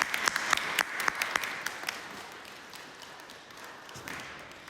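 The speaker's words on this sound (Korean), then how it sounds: "들어가실 때 우리 박수로 다시 한번 격려하도록 하겠습니다" Church congregation applauding at a Sunday worship service, a moderate round of clapping that is denser at first and gradually thins and softens toward the end.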